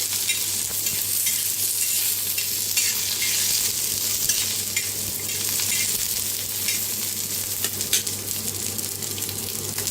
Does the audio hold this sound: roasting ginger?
yes